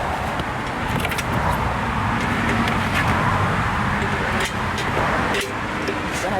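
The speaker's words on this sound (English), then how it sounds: "Cars are driving by, so it's not gonna be as quiet." Cars passing on a road in Key West: continuous broadband roar and rush of traffic, fairly loud and steady, with faint clinks and no clear talking over it.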